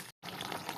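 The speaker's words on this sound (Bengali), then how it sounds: "জলটা আলু সিদ্ধ করা জলটাই আমি দিচ্ছি।" Potato-boiling water pours into a cooking pan in a steady liquid rush, brief and fairly quiet after a split-second gap, with no talking.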